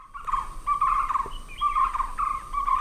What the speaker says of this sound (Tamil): இந்த பறவை பார்த்தீங்கன்னாக்கா இப்படி தான் சத்தத்தை எழுப்பும்.